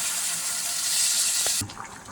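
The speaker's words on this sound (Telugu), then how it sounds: "ఈ చింతపండు వాటర్ ఏమొచ్చి ఈ వెజిటేబుల్స్లో ఫ్రై అండ్ వెజిటేబుల్స్లో వేస్తాం" Tamarind water pours steadily onto vegetables while sambar is cooked, a continuous splashing stream that cuts off abruptly, followed by a couple of faint knocks.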